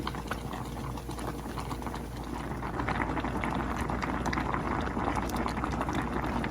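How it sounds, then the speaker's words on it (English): A steady, dense bubbling of water at a rolling boil with lasagna noodles cooking in a pot, close up and constant, with no voices. "I have my lasagna noodles boiling."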